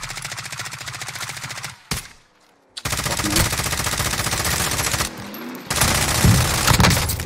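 Sustained automatic gunfire in Call of Duty Warzone, loud and close, broken by short silent gaps and a sharp crack, with no speech.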